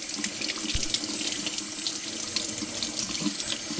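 Water runs steadily from a kitchen tap into a sink while squid are washed for calamari salad, a close splashing stream with small clicks and knocks of handling.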